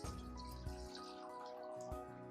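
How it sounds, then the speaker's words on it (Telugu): Water poured into a cooking bowl in a home kitchen while making tomato rasam, a steady splashing pour over a sustained tonal background with no talking. "ఓ గిన్నె, ఇందులో కాసిన నీళ్ళు పోద్దాం."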